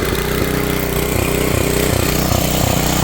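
A small portable generator runs steadily at close range, its engine putting out a continuous, even drone with a low, regular pulsing throughout and no voices.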